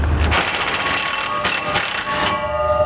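Bolts come off the factory heat shield under a 2015 Chevrolet Silverado 2500. A steady ratcheting tool works at close range, with loud, continuous mechanical clicking and a few louder bursts, and no talking.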